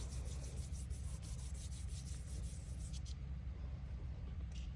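Fingers rub paper onto a printmaking block with a soft, continuous scuffing, faint and close, in quick repeated strokes.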